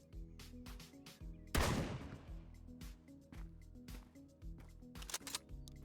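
A single loud Remington 870 pump shotgun blast in the Road to Vostok survival shooter, a sharp boom with a brief decaying tail, set among quieter clicks, steps and mechanical handling sounds.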